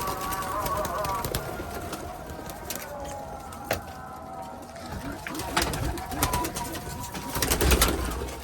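Pigeons coo near a coop in Mardin, low throaty calls repeating through a background of other birds, with a sharp call or two and a louder rustle near the end.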